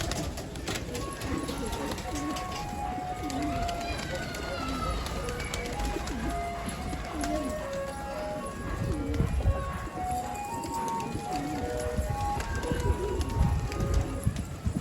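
Pigeons coo and flutter in a busy, noisy outdoor spot, with people talking nearby and steady background clatter throughout.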